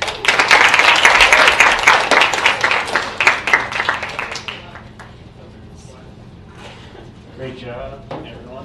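Loud audience applause follows a student talk at a conference, dense and steady for about four seconds before tapering off into quiet room noise with a few stray claps.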